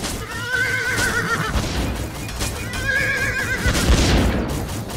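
Horses neigh in Animal Revolt Battle Simulator, two loud whinnies several seconds apart over a busy battle din of thuds and hoof noise.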